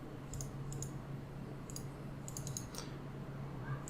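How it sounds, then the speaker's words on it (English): Several quick mouse clicks, including double-click pairs, sound faintly over a steady low hum while setting up custom labels in StampManage software on a computer. "let me double click on the first one"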